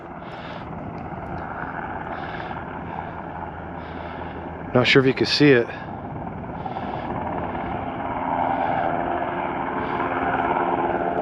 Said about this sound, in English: Oh, here comes that helicopter